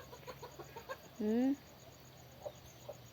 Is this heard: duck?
yes